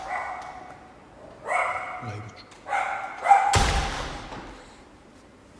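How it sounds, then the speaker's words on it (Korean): A staff member's dog barks in a few short bursts nearby during an indoor live stream, followed by a loud thump. A voice speaks briefly. "회사 직원분 강아지가 짖는 소리입니다."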